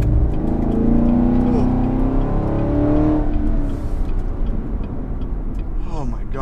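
Chevrolet Camaro SS engine roars loudly under throttle, revs climbing for a few seconds before easing into a rumbling cruise, with a person talking over it.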